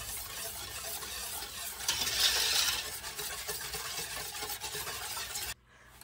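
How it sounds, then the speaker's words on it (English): Sugar being whisked into apple cider vinegar warming in a pot on medium-high heat, a continuous close scraping swish that grows briefly louder, then cuts off abruptly near the end. "I'm gonna get that apple cider vinegar started to warm on medium-high while I whisk in the sugar"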